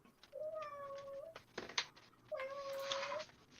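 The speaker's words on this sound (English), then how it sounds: "hello, cat. You can hear her, yeah." A cat meows twice, two drawn-out, fairly loud calls separated by a brief pause, close by in a quiet indoor room.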